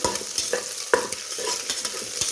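Two beaten eggs frying for an egg biryani, sizzling steadily in the pan while a spoon scrapes and stirs them in quick irregular strokes, close and without talk.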